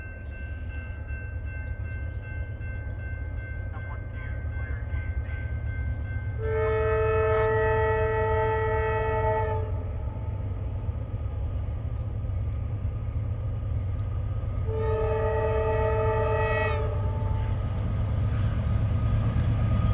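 A Norfolk Southern freight train rumbles past with a low, continuous roar, sounding two long, loud horn blasts several seconds apart over the steady rolling noise.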